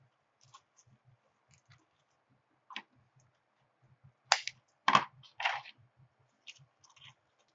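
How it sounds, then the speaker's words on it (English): Plastic zip tie being fastened on a winter lantern swag, a run of sharp ratcheting clicks in short bursts over faint background ticks. "I'm going to zip tie this on."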